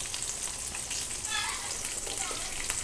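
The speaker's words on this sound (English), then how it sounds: "once this is almost done frying up" Chicken breast tenders fry in a pan on high heat with a dense, steady, loud sizzle that holds throughout.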